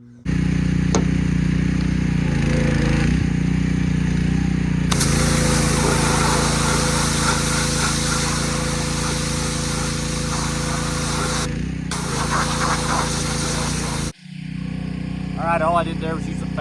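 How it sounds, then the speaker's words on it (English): A pressure washer with a 40-degree white fan nozzle blasts the horns of a boiled ram skull during European mounting. A loud, continuous engine drone and hiss of spray, close up, breaks briefly once and then cuts off near the end. "use the fan nozzle, the 40-degree white nozzle on the pressure washer to clean the horns"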